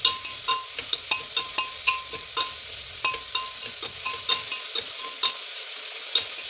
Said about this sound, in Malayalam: നമുക്ക് ഉപ്പിട്ട് കൊടുത്താൽ പെട്ടെന്ന് വഴണ്ടി കിട്ടും ഉള്ളി.